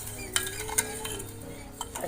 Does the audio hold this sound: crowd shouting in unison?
no